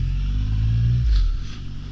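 A 2023 Triumph Rocket 3 GT motorcycle accelerates hard in second gear, a loud, deep engine rumble that swells then eases off over a couple of seconds, heard close up from the rider's position.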